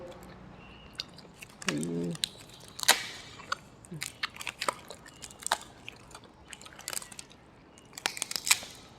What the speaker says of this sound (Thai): แล้วข้าวกรุบกรุบเลย